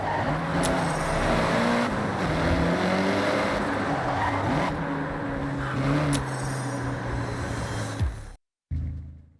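A rally-prepared car with rally suspension and sports brakes drives off-road over gravel and dirt in Forza Horizon, its engine droning and revving loudly with tire noise, then cutting out briefly near the end before resuming.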